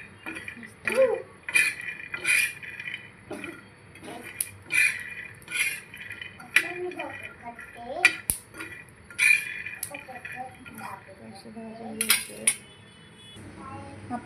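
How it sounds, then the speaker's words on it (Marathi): Peanuts roast in a pan over a low gas flame, giving irregular metallic clinks, scrapes and rattles of nuts being stirred, close by and uneven in rhythm. "कमी गॅसवर हे भाजून घेते."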